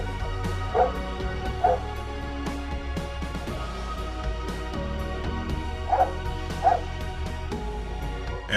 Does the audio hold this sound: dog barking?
yes